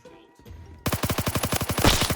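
A fast, steady burst of automatic gunfire from the Roblox shooter Phantom Forces, zombie-war mode, starting abruptly after a quiet moment and rattling loud and close for over a second.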